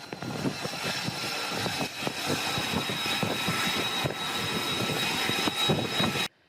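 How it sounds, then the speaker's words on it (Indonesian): A US military aircraft flies over the Arabian Sea, its engine roar steady and loud throughout, ending abruptly. "Pesawat bertugas untuk beroperasi dan melintasi di Laut Arab."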